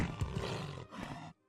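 A snow cat creature in the video game Morrowind Bloodmoon gives one rough, growling roar lasting over a second, fairly close, then it cuts off to silence.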